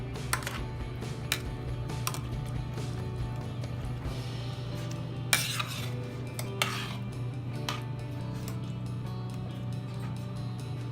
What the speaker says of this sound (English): Now stir all your ingredients in together.